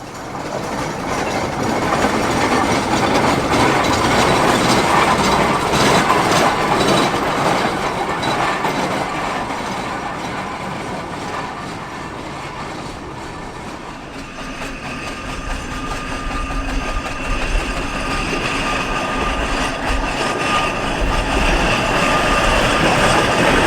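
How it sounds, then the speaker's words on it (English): A pair of vintage traction engines running at a Vintage Weekend evening event in Whanganui, giving a loud, continuous mechanical churn with rhythmic clatter that dips briefly midway and then swells again. "I'll throw in some footage of a pair of traction engines that took part in the Vintage Weekend"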